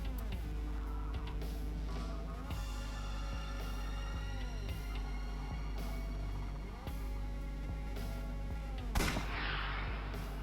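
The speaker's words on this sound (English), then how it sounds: "I'll try shooting it." Repeated gunshots fired in the video game AI: The Somnium Files, sharp loud reports spaced every second or two over a steady low hum and music-like tones, no talk.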